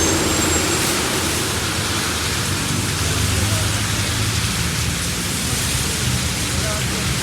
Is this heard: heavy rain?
yes